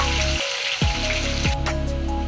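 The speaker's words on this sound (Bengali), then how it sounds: "পেঁয়াজটা আমার প্রায় ভাজা ভাজা হয়ে গেছে" Onions fry in hot oil in a wok after bay leaf, dried red chilli and cumin, making a steady crackling sizzle with a few brief clinks of stirring, fairly close and continuous with no talk.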